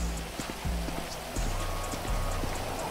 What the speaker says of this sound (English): it's gonna be kind of slow today because it's raining out